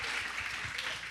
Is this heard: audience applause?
yes